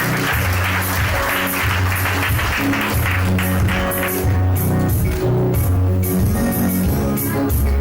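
Steady crowd applause at a civil wedding celebration runs through the whole stretch, loud and continuous, with a rhythmic tonal backing underneath and no pauses.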